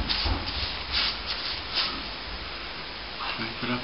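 Brushing and scraping of flaking paint off a plastered wall during preparation for painting, a steady rough rubbing texture with a few stronger strokes, close up, with some voice faintly in the background.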